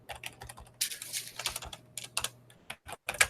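Keys clatter in quick, uneven bursts on a Commodore 64 keyboard, close and crisp, with short pauses between clusters of strokes over a faint low hum.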